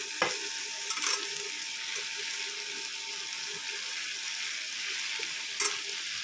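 Chopped amaranth leaves dropped into a hot frying pan with oil and turmeric, then stirred, giving a steady soft sizzle with a few sharp clatters of the spoon against the pan near the start and end.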